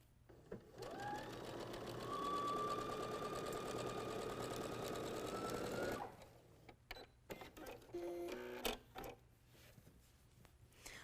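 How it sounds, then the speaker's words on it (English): A sewing machine stitches quilt pieces with a quarter-inch seam, a steady close whirring run for several seconds that stops abruptly, followed by scattered clicks and mechanical clatter. "we'll take it to the machine, and once again, we'll stitch it with our 1/4 inch seam"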